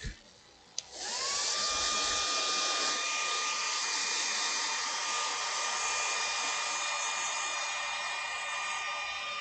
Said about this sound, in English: So now we're going to go with the white after I blow dry it